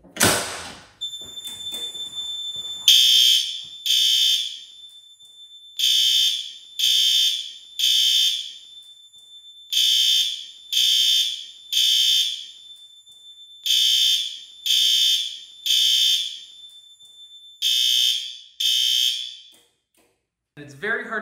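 System Sensor L-Series horn strobes, LED and xenon, sound together in loud, steady temporal bursts: three shrill honks, a pause, then repeated in the same pattern, close and alone.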